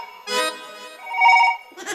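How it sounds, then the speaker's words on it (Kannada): A phone rings with a bright, tonal ringtone in a stage comedy play, sounding in three short melodic bursts separated by brief gaps. "ಈಗ ಬಂತು ನೋಡಿ ಫೋನ್."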